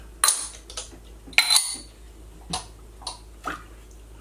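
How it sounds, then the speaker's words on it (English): Utensil stirring a homemade eggnog mixture of eggs with nutmeg and a pinch of salt, giving several soft scraping and clinking taps spaced apart, close and fairly quiet with no talking. "And now we're going to stir it."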